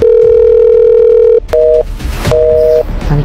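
A steady telephone tone gives way to repeating two-tone ringing pulses, loud and close, with no one picking up.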